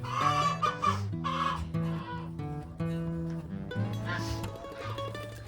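Several chickens, including an Ameraucana cross hen, cluck and call in repeated bursts close by, a busy overlapping chorus of clucks with no talk.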